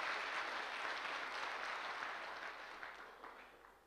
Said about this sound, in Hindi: सर के लिए, उनके लिए, उस प्रोफेशन के लिए भी जबरदस्त वाली ताली।